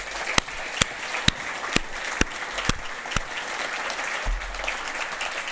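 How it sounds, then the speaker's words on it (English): An event audience applauds at the close of a talk on regenerative practices, steady clapping from a crowd with a few sharp nearby claps standing out, no voices over it. "round of applause for everybody in the house"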